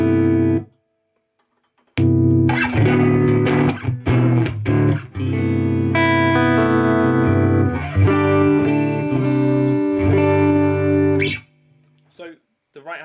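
An electric guitar through an overdriven Deluxe Reverb tube amp plays strummed chords and short bursts with a crunchy tone, ringing with sustain, preceded and followed by brief pauses.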